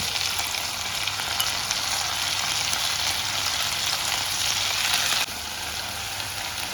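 Green chillies and mint frying in a cast iron pan for vegetable biryani, giving a loud, steady close sizzle that eases slightly near the end, with no talking.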